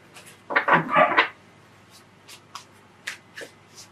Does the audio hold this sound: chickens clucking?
no